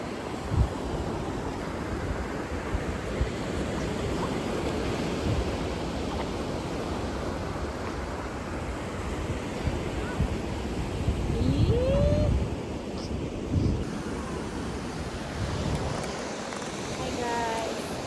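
Sea waves wash steadily onto a shore in a broad, continuous rush, with wind buffeting the microphone and a few brief voices and sounds breaking through near the end.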